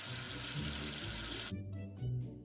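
A kids' alphabet learning game plays a running-water effect for rinsing soap away. A loud faucet gushes for about a second and a half, then stops and gives way to light dripping and soft tones.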